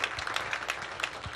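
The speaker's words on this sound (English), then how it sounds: "can you give God a hand clap?" A church congregation claps hands together in a steady patter of overlapping claps, with no voices.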